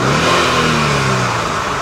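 A supercharged 392 V8 car engine with a ProCharger revs loudly and steadily close by, its low harmonic roar sweeping without pause and with no talk.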